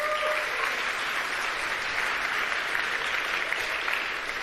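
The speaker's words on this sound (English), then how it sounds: "Huge round of applause" Sustained applause from a conference audience at a developer event, dense steady clapping throughout with no voices over it.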